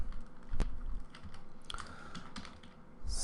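Typing on a computer keyboard to write down a note: a quick run of soft plastic key clicks in an uneven rhythm, close and moderately quiet, with one sharper tap near the start and no talk.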